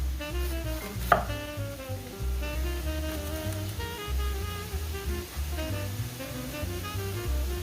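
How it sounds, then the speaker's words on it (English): Italian sausage roll fries in a pan with a steady sizzle and occasional stirring scrapes, one sharp clink near the start, continuous and close without talk over it. "Just cooking up a roll of Italian sausage for now"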